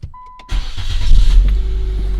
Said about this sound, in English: So let me turn on the engine.